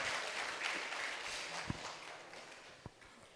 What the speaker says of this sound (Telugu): వారికి ఒకసారి గట్టిగా చప్పట్లు కొట్టుకుందాం.